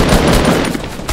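Gunfire in the video game Fortnite: a loud, dense, unbroken burst of rapid shots that fills the whole moment without a pause.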